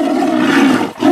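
A tiger gives one loud, close, sustained roar with a rough, throaty tone that dips briefly near the end before swelling again.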